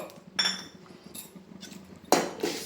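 Sesame seeds and a metal teaspoon clinking against a pan, a few short sharp clinks and scrapes with quiet gaps between, the loudest near the end.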